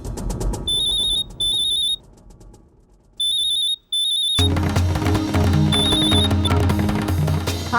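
A telephone rings indoors in a tense household scene, two bursts of shrill electronic trills, a pause, then two more, after which loud dramatic music swells in beneath further rings.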